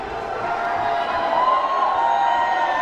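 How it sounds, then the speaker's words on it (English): Wrestling crowd at a tag-team match cheering and calling out for a wrestler, a steady, dense roar of many voices that swells slightly toward the end, with no clear talk over it. "Look at this, the crowd calling for Durag."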